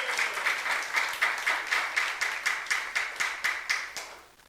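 A church youth congregation claps in unison during a sermon, a regular rhythmic beat of about a dozen sharp group claps, moderately distant and with nothing else over it.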